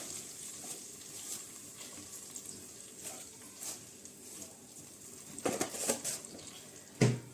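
Soft bubbling and sizzling from rice boiling in a pot on the stove, with occasional clinks and a louder knock near the end.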